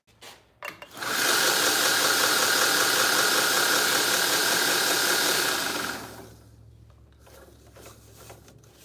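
A belt grinder finish-grinding a knife at 400 grit gives a loud, steady abrasive roar that cuts in sharply, holds for about five seconds, then falls away to a low motor hum.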